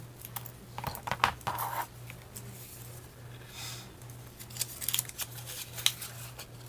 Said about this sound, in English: Cut these as I go.